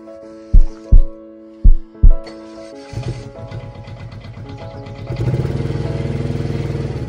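Several sharp mechanical thumps, then a small engine with its air filter removed sputters to life and settles into a fast, rough, rattling idle that grows louder.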